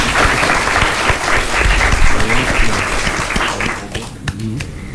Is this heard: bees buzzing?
no